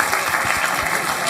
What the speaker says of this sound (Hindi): कृष्ण की ताली।